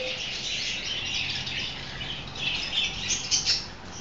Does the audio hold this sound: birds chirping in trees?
yes